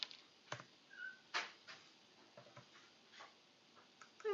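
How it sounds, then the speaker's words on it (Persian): Soft, irregular clicks of typing on a computer keyboard, faint and close, with short pauses between keystrokes. "مدل رو به انگلیسی تایپ میکنیم."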